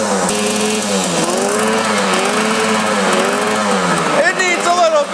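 A 1960s Yamaha vintage motorcycle engine runs steadily after a kick start, a loud, buzzing close-up drone with wavering revs throughout and a brief blip of throttle near the end; voices are faintly present.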